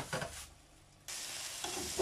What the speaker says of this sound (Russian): Сначала я обжариваю капусточку.